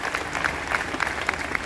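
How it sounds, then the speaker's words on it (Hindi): A crowd at the Lakhimpur festival in Dudhwa claps in thanks for the district magistrate, a brief burst of scattered, moderately loud hand claps with individual slaps standing out. "तालियां बजा के जिलाधिकारी जी का धन्यवाद तो कर दो"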